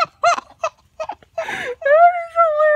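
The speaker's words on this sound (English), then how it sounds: "When roosters start learning how to crow, they sound really awkward, like an adolescent boy." A young Polish chicken rooster attempts an awkward, cracking crow: a few short clucks and a rough squawk, then a wobbling drawn-out crow and a final strained note, close and loud.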